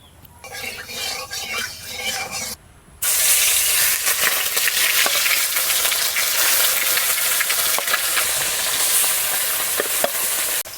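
Fish rubbed with salt and turmeric fries in mustard oil in a hot pan outdoors, a loud steady sizzle that starts after a brief quieter stretch and runs on with occasional stirring clinks.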